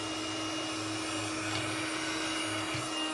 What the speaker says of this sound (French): Ah ouais, ça aspire, mais très léger en fait.